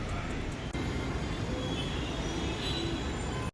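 A metro train at a Hyderabad metro station, a steady loud rumble and hum of the train with station ambience, briefly dipping once before continuing, no talk heard.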